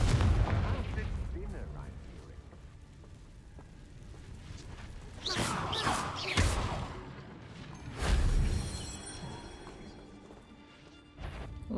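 Confringo explosion spell blasts in Hogwarts Legacy, two loud, sharp bursts a couple of seconds apart over a low game rumble, with a voice talking faintly beneath.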